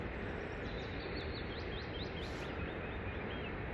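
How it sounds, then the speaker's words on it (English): Birds singing in a forest after rain, a repeated series of thin, high chirps heard faintly over a constant wash of wind or dripping background noise, with no one talking. "Not sure if you can hear it, but the birds are singing."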